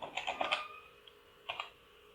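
A git command being typed on a computer keyboard, a quiet short burst of quick key clicks followed by a brief pause and two more taps.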